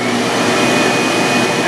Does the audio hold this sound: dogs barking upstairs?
no